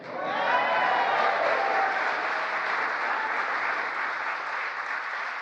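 An audience at a speech marking the first anniversary of the Inflation Reduction Act bursts into sustained applause, a dense steady wash of clapping that swells quickly and holds loud for several seconds.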